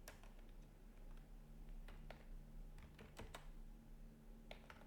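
C++ code being typed on a computer keyboard, heard as faint, irregular keystrokes and clicks spread across a few seconds in a quiet room with a low background hum and no speech.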